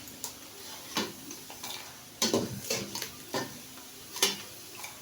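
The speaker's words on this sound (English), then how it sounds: "Let's not even over fry this liver." Liver fries in a pan, with a soft sizzle under repeated scraping and clinking of a utensil against the pan at an uneven rhythm.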